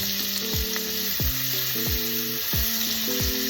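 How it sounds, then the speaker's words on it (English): Onion frying in bacon grease in a pan, a steady close sizzle and crackle running throughout, with no talk. "So let's go ahead and add the onion."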